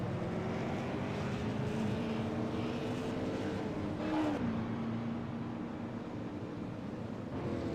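A race car from the Pierce Fleet Supers field at Nashville, the number 7 car, drones steadily past with a continuous engine roar that rises slightly and fades, alone without talk.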